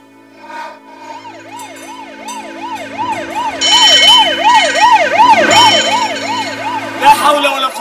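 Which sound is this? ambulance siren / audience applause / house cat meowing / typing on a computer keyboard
ambulance siren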